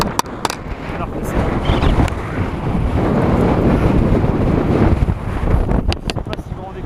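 Strong gusts roar across open snowy ground during a -9°C winter bivouac hike, a loud sustained rush buffeting the microphone with sharp clicks and knocks near the start and end.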